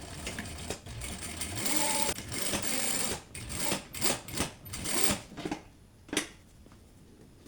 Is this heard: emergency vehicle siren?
no